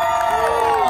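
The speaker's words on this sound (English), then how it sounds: "if you can give just a little bit of a round of applause for a scrappy, for a dappy daredevil like myself" Crowd at a Six Flags New England Creepshow freak show cheering and whooping loudly, a dense sustained roar of voices up close.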